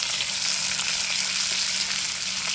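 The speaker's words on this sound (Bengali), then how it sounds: "পেঁয়াজের মধ্যে দিয়ে দিচ্ছি তিনটে চেরা কাঁচা লঙ্কা এবার এটাকে ভালো করে ভেজে নেব" Onions and slit green chillies fry in a pan with a steady, dense sizzle that holds at an even loudness throughout, close up and with no talking.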